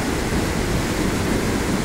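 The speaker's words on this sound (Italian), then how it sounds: "mi sto zitto un attimo da sentire, no? La cascata col fiume" A waterfall pours into a river outdoors, making a dense, unbroken broadband rush of water that stays loud and even throughout with no voices over it.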